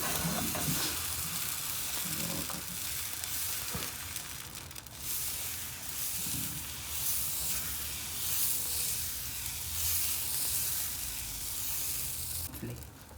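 Dosa batter sizzling on a hot tava, a steady hissing fry with a few scraping spreads and taps, close and fairly loud, no voices.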